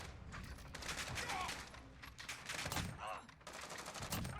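Marksman rifle shots in Call of Duty Modern Warfare, several sharp reports spaced across a few seconds, set against steady background game noise at moderate loudness.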